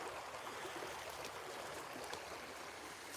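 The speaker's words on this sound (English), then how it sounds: "Pretty good creek here. Flowing pretty good." A flatland creek in Oregon flows steadily, giving a continuous, even rush of moving water with no voices.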